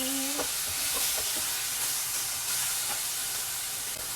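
Aromatics sautéing in a pan while cooking sardines, a continuous loud hiss and sizzle of oil with a few faint clinks, no voices.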